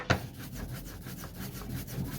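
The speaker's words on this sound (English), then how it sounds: "That's the sound of the ink over all the roller" An ink roller makes a soft, continuous sticky rubbing and rolling sound over an inking tray for collograph printing, repeating in steady back-and-forth strokes, close up with no voices.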